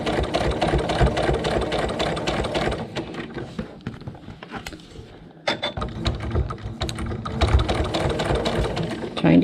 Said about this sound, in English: we're going to lower the needle right at the corner, back stitch off, and then just stitch right along our basting line